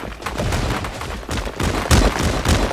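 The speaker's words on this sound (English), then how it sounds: "Dumbo trying to shoot out the builds" Rapid video-game gunfire in a Fortnite scrim match as a player shoots out an opponent's builds, loud, dense bursts of shots repeating in clusters with heavy low thumps, no talking.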